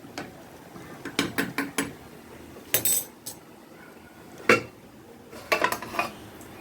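Metal pan lid clattering shut over boneless chicken cooking in gongura, a series of sharp clinks and clanks in bursts, close and fairly loud, with no talking.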